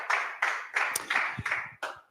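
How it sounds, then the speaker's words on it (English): Audience applause at a PHP Sussex software meetup talk, a small group clapping in uneven bursts, close and moderately loud, with no talking. "Let's get another round of applause for Raj."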